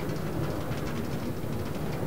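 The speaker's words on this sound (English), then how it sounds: "I love the new sound effects for the minecarts." Minecart rolling in Minecraft, a steady, loud rumbling clatter of wheels on rails that keeps going without a break from start to end.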